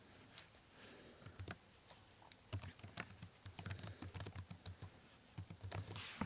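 Fast, irregular clacking of a computer keyboard being typed on, close and fairly quiet, keystrokes coming in quick clusters with brief pauses between.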